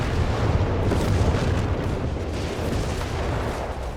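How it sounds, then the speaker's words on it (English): An airburst artillery shell barrage pounds a Company of Heroes 3 battlefield, loud overlapping booms merging into a dense, continuous rumbling roar with no voices. "We do get an airburst shell barrage called in."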